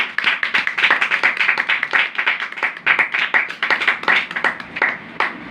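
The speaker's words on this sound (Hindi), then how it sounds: "एक बार जोरदार ताली" A congregation at a Hindi-language religious sermon claps loudly and briskly in a rhythmic burst of many hands, close and sharp, sustained for several seconds.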